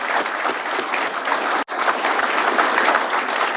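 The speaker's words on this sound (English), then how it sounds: "Let's give Chloe another round of applause." Sustained applause from a crowd at a fire and rescue EMS awards ceremony, dense clapping that fills the space evenly with a brief dropout midway, no speech over it.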